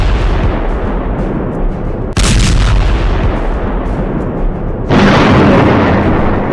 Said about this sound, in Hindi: गाजा पर हो रही इजराइल की दिन रात बमबारी और धमाके